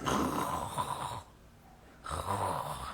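A person imitates sleep apnea snoring with two rough, throaty breaths split by a short silence, close and fairly quiet.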